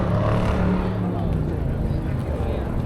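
A Mopar car rumbles past close by, a loud low exhaust growl that swells and then fades slightly over a few seconds.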